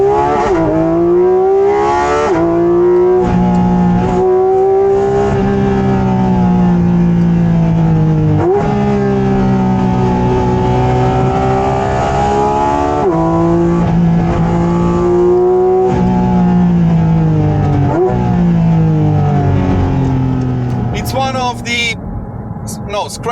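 A Porsche 718 Cayman fitted with a GT3 engine and an acoustically tuned airbox revs hard toward 9,000 RPM, its loud, sustained engine howl repeatedly rising and dipping as it climbs through gears over about twenty seconds, close and dominant throughout.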